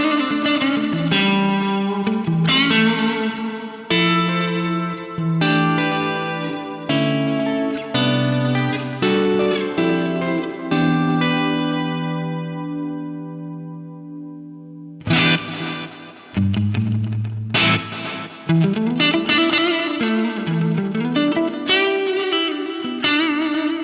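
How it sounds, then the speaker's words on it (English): Guitar played through an Eventide H90 stereo delay feeding an SP2016 reverb, sustained chords and notes trailing into long repeating echoes and a lush decaying wash, fading out before a new phrase rings in loudly. "So a gorgeous stereo delay running into that awesome SP2016 Reverb."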